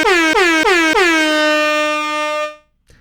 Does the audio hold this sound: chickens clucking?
no